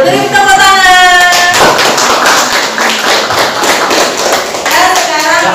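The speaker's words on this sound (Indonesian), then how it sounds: "Beri tepuk tangan." A class claps together in a loud burst of applause, dense and sustained for several seconds, with voices calling out over the start and end.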